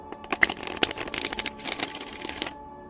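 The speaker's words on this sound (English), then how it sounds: "give these a shuffle" Close, quiet riffling of a deck of oracle cards being shuffled, in quick crisp bursts of flicking and sliding for a couple of seconds.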